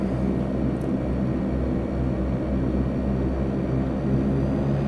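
A Twin Otter turboprop rolls down the runway for takeoff in the FSX flight simulator game, its engines giving a steady, loud, low droning roar that holds level throughout with no voices.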